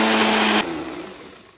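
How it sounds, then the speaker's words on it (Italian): A kitchen blender runs at maximum speed, puréeing cooked asparagus with olive oil and pasta cooking water. The loud, steady motor whine cuts off abruptly and winds down to a fading hum. "facciamo frullare alla massima velocità."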